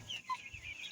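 Shamo chicks and hens clucking softly in a coop, a short high peep rising above low murmuring clucks, faint and close.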